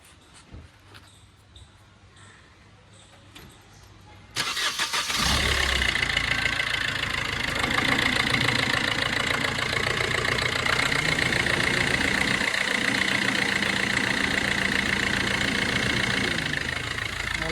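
A 2015 Maruti Ciaz VDi+ diesel engine idles with the air conditioning running, a loud, steady, even rumble that starts abruptly after about four seconds of quieter background and holds unchanged to the end.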